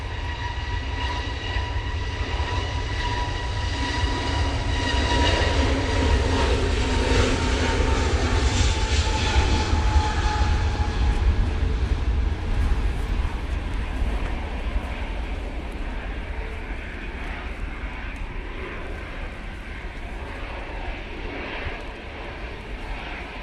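Jet2 Airbus A321neo taking off at Manchester Airport in windy weather, a sustained loud jet engine roar with a rising whine that slowly fades as the aircraft climbs away.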